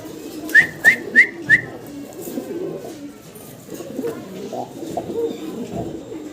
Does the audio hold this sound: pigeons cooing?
yes